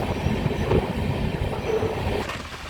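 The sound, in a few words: Indian Railways train running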